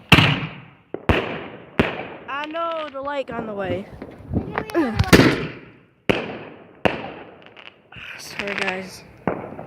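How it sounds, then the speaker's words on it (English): Firecrackers and fireworks go off as a string of sharp, loud bangs spaced irregularly through the clip, with some whistling or crackling bursts among them and people talking over the blasts. "Got some firecrackers. And also some fireworks."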